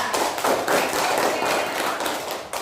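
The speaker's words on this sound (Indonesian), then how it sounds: "kita beri tepuk tangan dulu buat kelompok Kamboja." Classroom applause for a student group, a steady burst of many hands clapping at close range for about two and a half seconds, then stopping abruptly.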